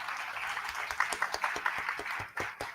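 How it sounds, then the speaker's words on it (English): A panel-discussion audience gives a round of applause for the panelists: moderately faint, scattered claps with individual hands audible in an uneven rhythm, fairly distant and brief. "So let's give them a round of applause."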